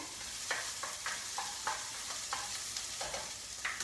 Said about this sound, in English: we're gonna brown each of these vegetables right now